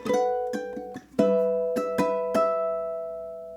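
The closing measure of a song's verse on ukulele, a run of crisp plucked chords and notes that ring and sustain, played alone with no voice.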